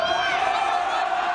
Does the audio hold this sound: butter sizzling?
no